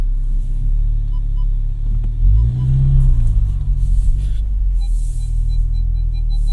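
A 2020 Cupra 290 DSG rolls through a turnaround on the road, its engine a low steady rumble that swells briefly as it pulls away, heard from inside the cabin.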